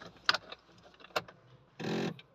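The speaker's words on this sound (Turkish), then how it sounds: "şimdi bakalım hep birlikte marşa basalım bakalım" A Fiat Doblo 1.4 engine is cranked after a timing belt and water pump service, with a few faint clicks and key jingles before a short, loud burst of starter cranking near the end.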